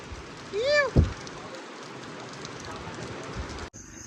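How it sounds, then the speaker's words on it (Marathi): Steady rain patters and hisses across the whole clip, with people talking nearby and a brief thump partway through. "पाऊस चालू आहे बरं का"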